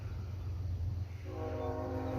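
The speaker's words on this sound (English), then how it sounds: "got a train coming through town" A train rolls through town with a steady low rumble, then a long, sustained horn blast joins in partway through, loud and droning over the continuous rolling noise.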